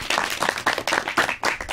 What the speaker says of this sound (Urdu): تو بھائی اساتذہ کے لیے انہوں نے تالیاں بجائیں